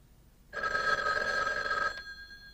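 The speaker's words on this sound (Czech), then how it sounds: "Policejní stanice u telefonu Mooney." A telephone rings at a police station in a 1988 horror film, one steady electronic ring burst lasting about a second and a half, loud and close, with no voices over it.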